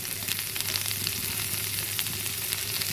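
Pumpkin and yardlong bean bhaji frying in a pan, a dense, continuous close sizzle with faint crackling, steady and alone throughout.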